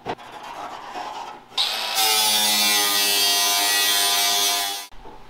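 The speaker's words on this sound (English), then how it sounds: "Cut them with a grinder and a piece of tape." An angle grinder cuts through the fender of a rat rod car, spinning up briefly and then holding a loud, steady, harsh whine with a broad metallic roar for about three seconds before cutting off.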